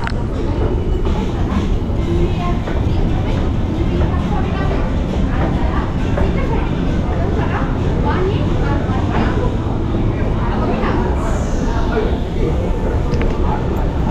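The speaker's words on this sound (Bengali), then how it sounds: "মেট্রো চলে এসেছে, আমরা নামবো নিচে" A Kolkata Metro Green Line train rumbles steadily and loudly on its rails as it arrives, with a brief high squeal near the end and voices faintly underneath.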